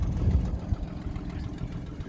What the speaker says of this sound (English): Now we're just warming up the Bravada here.